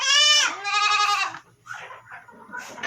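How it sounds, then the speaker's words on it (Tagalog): Goats in a backyard pen bleat loudly and close up, with two long wavering calls followed by softer, rougher bleats. "Nasa kulungan pa sila kasi maaga pa. Mamayang alaw na pa tayo magpapalabas ng kambing."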